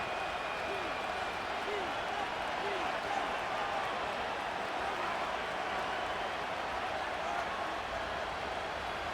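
Stadium crowd at an NFL game between the Philadelphia Eagles and Cincinnati Bengals, a steady dense roar of thousands of fans throughout, with indistinct voices and some whistles mixed in at a distance.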